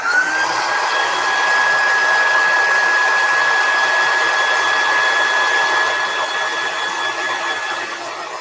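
A hair dryer blows loud and close, drying chalk paste on the top of a fall decor piece. It is a steady whooshing roar with a high whine that runs unbroken throughout.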